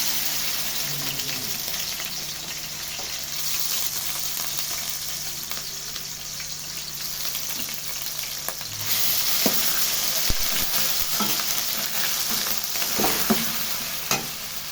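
Onion frying in hot oil in a cooking pot, a continuous crackling sizzle with intermittent stirring scrapes and clatters growing busier toward the end.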